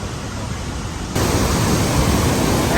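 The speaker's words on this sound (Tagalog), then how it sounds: "Niagara Falls guys, grabe, lakas." Niagara Falls roaring as a dense, steady wash of falling water, loud and close, swelling to a fuller roar partway through with no voices over it.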